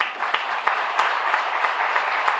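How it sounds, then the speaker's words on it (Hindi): An audience applauds children at a speech to teachers, a steady patter of many hands clapping at moderate distance for a few seconds, with no voices over it. "बच्चों के लिए ताली।"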